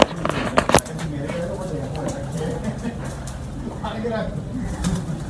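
Pigeons coo softly in the background amid flapping and rustling, with people talking over them, at a flying-pigeon showing.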